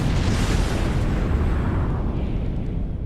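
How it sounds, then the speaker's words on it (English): Stage pyrotechnic explosions fire on the main stage at the 2018 Call of Duty World Championships, producing a loud, sustained booming roar that fills the whole stretch without a break. "does that seem like a lot of explosions?"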